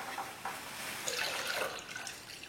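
Water from a bucket pours and splashes into a case sifter full of steel pins, a steady close rush with gurgling surges that rise and fall over a couple of seconds.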